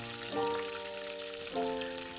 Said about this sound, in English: start frying our lemongrass, star anise, cinnamon bark, cloves and cardamom seeds